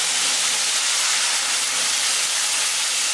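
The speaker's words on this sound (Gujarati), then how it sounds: "હળદર અહીંયા અડધી ચમચી મેં એડ કરી છે અને સાથે આપણે પાણીથી વઘાર કરીશું" Water splashed into a hot tempering of cumin seeds and half a spoon of turmeric for gathiya shaak gives a loud, steady, close sizzling hiss that runs unbroken throughout, with no voices.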